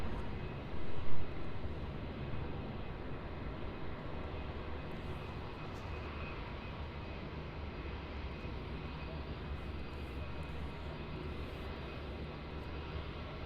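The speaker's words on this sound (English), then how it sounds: "We've got a Jetstar taxiing up nice and close here." A Jetstar airliner taxis at Melbourne Airport, its engines giving a steady, fairly distant broadband roar that holds evenly throughout, with no voices over it.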